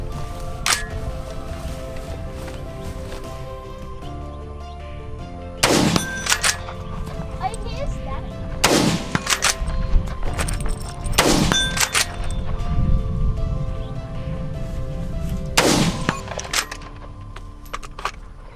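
A .308 rifle fitted with a thermal scope fires several loud, widely spaced shots outdoors, each followed by a ringing metallic ping of the round striking steel targets downrange, with wind noise and some talk in between.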